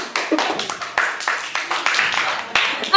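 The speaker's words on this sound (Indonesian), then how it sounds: "Tepuk tangan." Hand clapping from a small group at a school student council gathering, a brief irregular burst of claps, close and fairly loud, with voices mixed in.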